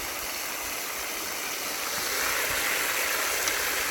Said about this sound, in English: It's leaking out the back.